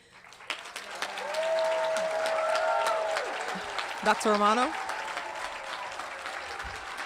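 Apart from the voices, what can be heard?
audience applauding graduating class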